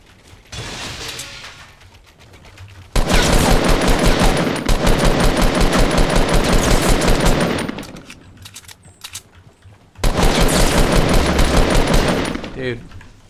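Rapid automatic gunfire in the video game Fortnite, loud bursts of shots with short pauses between them, mixed with in-game effects and a player talking.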